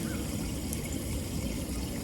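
Water is poured onto a green garden spot, making a continuous close trickle that splashes and drips steadily for the whole moment.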